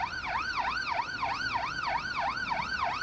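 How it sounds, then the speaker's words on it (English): A two-tone wailing London ambulance siren in a video game rises and falls steadily in a fast repeating cycle, loud and continuous with no voices. "So let's put the siren on. Our London siren."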